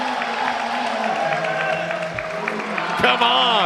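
Spectators at a Major League Table Tennis match between Florida and Chicago cheer and shout steadily in an indoor arena, with a commentator's voice on top and a brief surge of noise near the end.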